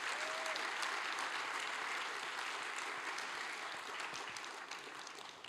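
An audience at a Native Hawaiian convention applauds to welcome committee members, a dense, steady clapping from a crowd that continues throughout and tapers slightly at the end.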